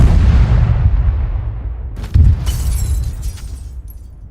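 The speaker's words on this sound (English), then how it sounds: "that shrapnel's hitting here. Well, it is an artillery cannon." Artillery cannon fire in a combat video game: a loud, close boom with a long rumbling tail, then a second sharp blast around the midpoint followed by crackling, metallic shrapnel impacts that fade out.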